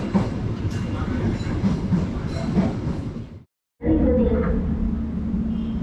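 A train rumbles and clatters loudly past at Bekasi station, close and steady. The noise cuts out for a brief moment, then a heavy, droning rumble continues.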